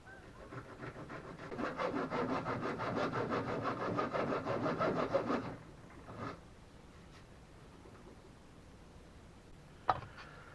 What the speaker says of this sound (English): I'm using a hacksaw blade.